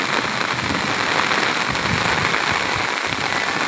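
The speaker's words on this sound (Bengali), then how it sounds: "দেখেন বৃষ্টির শব্দে" Heavy rain pours down on the Baranai River at Naldanga, Natore, in a dense, unbroken hiss, drumming steadily on the wide water surface with no voices.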